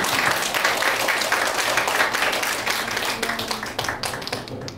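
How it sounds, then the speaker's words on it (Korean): A crowd in a small auditorium applauds after a traditional Korean salpuri dance performance at a gugak awards ceremony. Dense, loud clapping fills the hall steadily and thins slightly toward the end. "다시 한번 박수 부탁드립니다."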